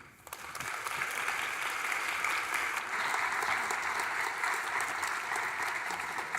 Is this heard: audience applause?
yes